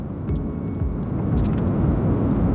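A custom-built Honda City car under full-throttle acceleration, a deep continuous engine rumble that swells slightly as it pulls, heard from inside the cabin with no talking.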